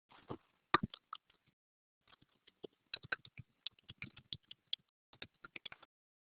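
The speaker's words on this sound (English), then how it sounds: "A couple people are typing." Quiet, sparse keyboard typing from a couple of people, irregular clusters of close key taps separated by brief pauses.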